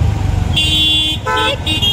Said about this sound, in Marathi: बघा तिला हॉर्न